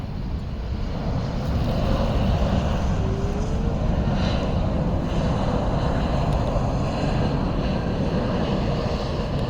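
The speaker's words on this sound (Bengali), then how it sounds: "এই যে ল্যান্ড করছে পুরোপুরি ল্যান্ড করলো" An Airbus airliner landing at a London airport makes a steady, loud, broad engine roar that swells slightly early on and then continues evenly throughout.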